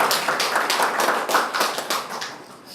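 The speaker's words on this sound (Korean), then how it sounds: "우리 박수로 환영하겠습니다." A church congregation applauds in welcome during a service, a dense burst of many hands clapping together, steady and moderately loud for a few seconds before tapering slightly.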